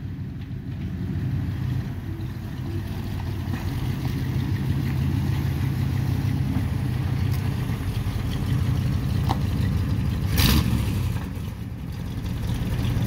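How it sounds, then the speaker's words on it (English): A 1992 Ford D150 truck doing a driveway burnout, giving a steady, rumbling engine drone at moderate distance with wind buffeting the microphone and a brief sharp transient near the end. "driveway burnouts."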